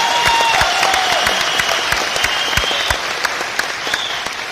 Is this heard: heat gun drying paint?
no